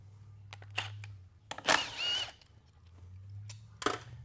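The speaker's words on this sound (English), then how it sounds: "That's your detent lever there. That's what keeps the tension on it, your click, click, click you hear." A detent lever inside a 4L65E automatic transmission being worked by hand on the bench, giving a few quiet separate clicks and rattles against a low hum, with no talking.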